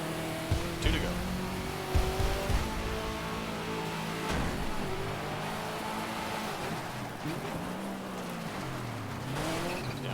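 A race car engine in the rally video game DiRT 2 revs hard and continuously, its pitch dropping and climbing again through repeated downshifts, with a few sharp knocks and skids near the start.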